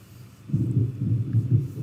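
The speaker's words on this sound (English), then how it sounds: "There's some more thunder. Do you hear that?" Thunder from a thunderstorm rolls in as a low, muffled rumble that swells and throbs for over a second after a quiet start, distant and without voices.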